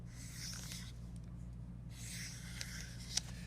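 Pencil or pen drawn across paper in two strokes, a soft dry scratching rub, close and quiet, separated by a brief pause with a faint tap near the end over low background hum.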